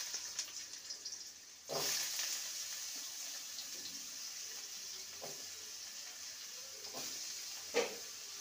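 Cut potatoes fry in mustard oil in a wok, giving a faint, steady hiss of sizzling broken by a few soft scrapes and clinks at intervals.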